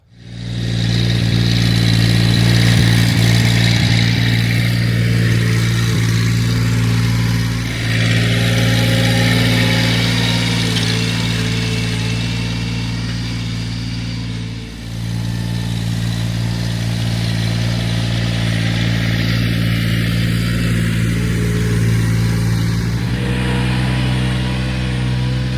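A tractor engine runs steadily close by while a field cultivator is unhooked in a garden, a loud continuous low rumble with slight dips in pitch and level, and no voices.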